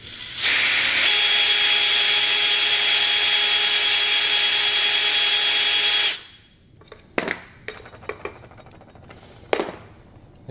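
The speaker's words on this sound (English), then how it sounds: "Just drill carefully." A power drill whirs loudly and steadily for about five seconds, then stops, followed by a few sharp clicks and clunks of handling.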